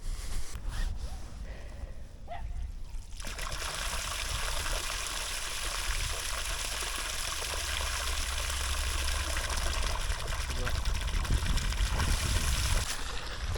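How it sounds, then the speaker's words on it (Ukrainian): Steady rushing water from a powerful borehole pump flows continuously into a pond after a brief quieter start, a constant broad hiss close by that holds until the end. "Як ви вже бачили, водичка пішла."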